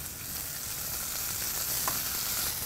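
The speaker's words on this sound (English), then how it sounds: "So right over here, I have a hot pan. Get those onions in the pan." Julienned onions hit a hot pan with avocado oil, giving a steady, close sizzle and crackle of frying that runs unbroken throughout, with no talking.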